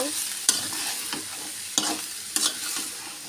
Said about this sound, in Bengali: এখন সবগুলো উপকরণ আমি সুন্দর করে মিশিয়ে নিব।